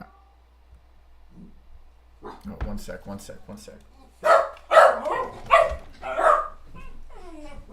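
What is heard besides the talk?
dog barking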